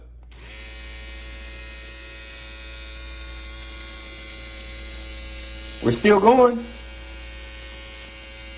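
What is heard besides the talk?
electric shaver running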